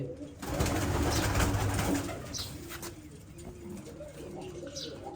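Pigeons coo nearby in soft, rolling throaty calls, with a louder burst of cooing and fluttery noise early on, then quieter calls continuing, with faint talk in the background.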